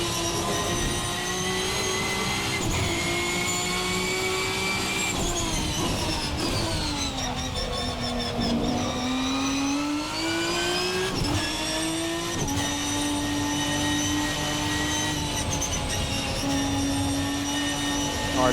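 A VRC Beamer V12 race car engine in a racing video game howls continuously at high revs, pitch sweeping up and down through gear changes and throttle lifts, loud and close throughout with no voices.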